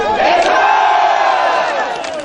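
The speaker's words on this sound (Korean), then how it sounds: "앵콜 해주세요" Crowd at a Korean hometown association sports-day concert loudly calling for an encore, a sustained roar of many voices chanting together, near and filling the space without pause.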